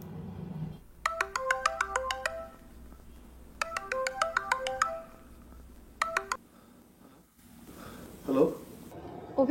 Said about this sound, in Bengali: অভিজিৎকে একটা ফোন করব